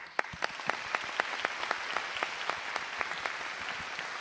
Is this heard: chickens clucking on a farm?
no